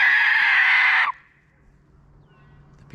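A peacock in an abandoned gold mining town gives a single loud, shrill, drawn-out scream lasting about a second, then quiet outdoor background follows.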